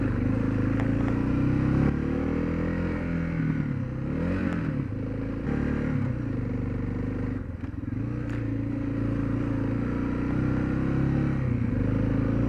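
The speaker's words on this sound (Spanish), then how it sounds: "Cómo me gusta manejar moto por estos caminos." A motorcycle engine drones steadily at close range while riding rural roads in Mexico, its pitch wavering with throttle changes, with some clattering from the rough road.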